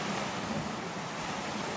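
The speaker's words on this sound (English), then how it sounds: "The boats are making waves." Waves stirred up by passing boats wash onto a beach in a continuous broadband rush, close and fairly loud, with wind buffeting the microphone and no voices.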